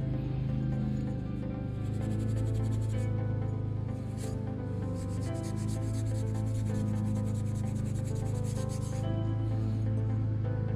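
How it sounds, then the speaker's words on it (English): Fine 0000 steel wool is rubbed over a steel ring from a CJ2A Jeep grille, making a continuous close scratchy rubbing with faint rhythmic strokes throughout. "Let's go polish it up too."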